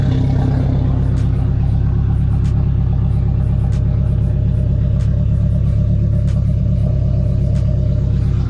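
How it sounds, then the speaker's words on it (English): A modified 800whp 2018 Subaru sits at idle with a second Optima Yellow Top battery wired in parallel, giving a steady, loud low rumble with faint periodic ticks, close by and alone. "I got the car at idle right now because I just wanted to check something"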